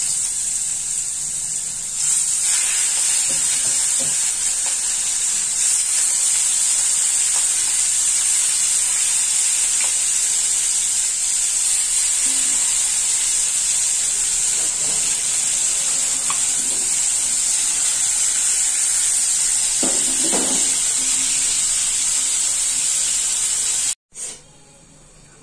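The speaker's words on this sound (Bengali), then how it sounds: "তেলটা গরম হয়ে গিয়েছে, এখন মাছটি দিয়ে দেব।" Pieces of pangas fish sizzle and hiss steadily in hot oil in a home kitchen pan, with a bright continuous frying crackle lasting nearly the whole stretch, occasional faint stirring or movement beneath, then cutting off abruptly at the end.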